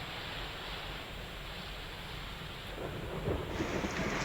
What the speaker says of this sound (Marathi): आज दिवसभर जो मुसळधार पाऊस सुरू आहे संपूर्ण पालघर जिल्ह्यामध्ये